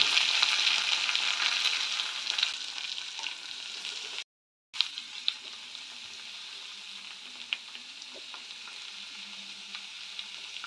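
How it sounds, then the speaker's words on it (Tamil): Onions fry in a pan with mustard seeds, curry leaves and green chilies, giving a steady, close sizzle with occasional small pops and one brief break in the sound. "வெங்காயம் நல்லா வதங்கட்டும்."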